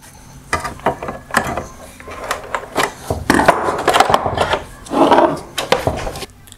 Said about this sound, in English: Next, I'm going to release the upper center mounting tab.